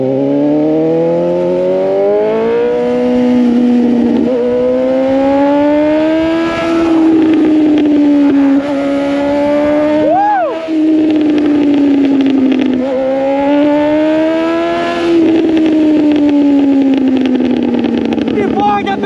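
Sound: Honda CBR 650R motorcycle revving and riding

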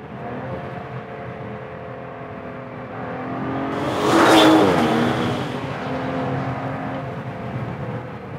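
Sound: Aston Martin DBS Superleggera Volante accelerating on the road

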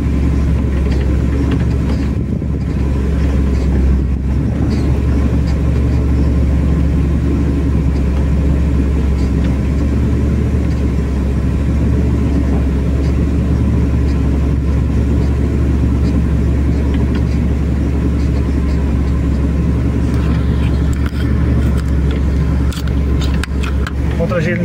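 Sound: Volkswagen 15180 six-cylinder truck engine climbing a mountain road

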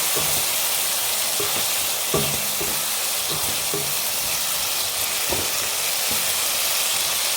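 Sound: sautéing spice paste for curd chicken in a pan

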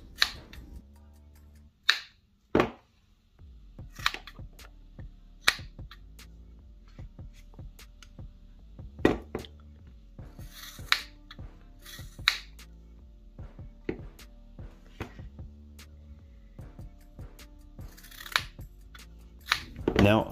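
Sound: small EDC scissors trying to cut Dyneema thread

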